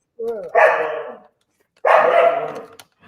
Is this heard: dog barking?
yes